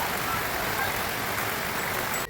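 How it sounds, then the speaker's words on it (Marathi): Sudden rain falls during sunshine in a rural village, making a dense, steady hiss that stays even and close throughout before cutting off at the very end. "अचानक पाऊस चालू झाला"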